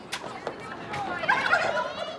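Turkeys on a farm gobble in rapid, warbling bursts, a few short calls at first and then a denser, louder gobble toward the end, fairly close.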